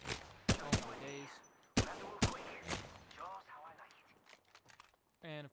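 Gunfire from Apex Legends: sharp, loud shots crack out in separate bursts, some in quick doubles, with game effects and a voice talking in between and near the end.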